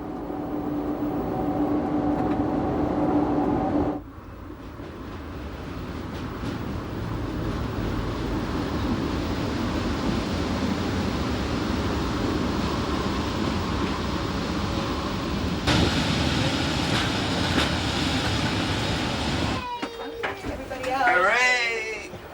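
Glacier Express train rumbling through a final tunnel into St. Moritz station, a loud sustained roar with a sharp change in tone as the train enters the tunnel and another near the end, plus a voice talking over it.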